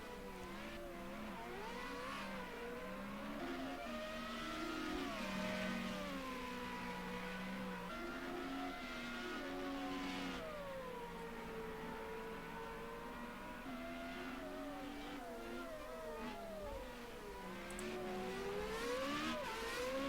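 Formula Renault 3.5 race cars in Project CARS 2 at Laguna Seca, a steady high-pitched engine whine rising and falling with gear changes, loud and continuous throughout with no talk.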